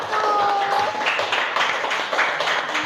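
Classmates in a classroom give a group of students a short round of applause, a dense patter of clapping that begins just as a voice trails off and then fades slightly.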